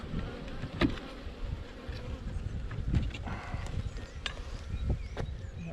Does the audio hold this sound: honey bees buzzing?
yes